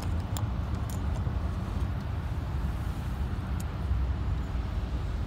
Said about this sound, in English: Those trucks are loud, man. The one that went by.